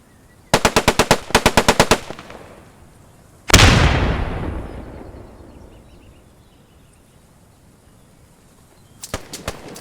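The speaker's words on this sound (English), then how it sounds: "Bren gun is keeping them suppressed." A Bren gun in the World War II shooter Post Scriptum fires two quick bursts of rapid, loud machine gun shots, followed by a heavy booming blast that rumbles and fades slowly, then another short burst at the end.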